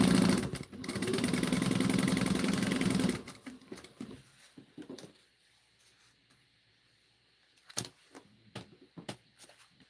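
A sewing machine stitches a seam, a steady close mechanical whirring hum for about three seconds, then stops, followed by quieter handling clicks and rustles of fabric.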